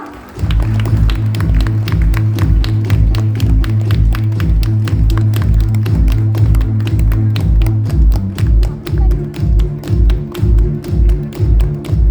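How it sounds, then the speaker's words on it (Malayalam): An audience claps steadily for a contestant taking the stage at a show, a loud, dense run of hand claps that continues throughout, with the rhythm loosening and pulsing near the end. "കയ്യടി കൊടുക്കാം"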